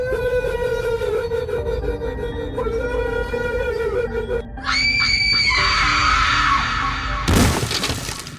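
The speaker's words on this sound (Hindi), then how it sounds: "और फिर एक बार फिर से अंदर से चीखने चिल्लाने की आवाज आने लगती है।" Eerie shrieking and wailing cries from inside a haunted bungalow in the Kamla horror game, rising in pitch and ending in a sharp crashing burst.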